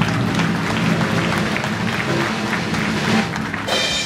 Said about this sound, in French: Grand applaudissement pour Michel encore.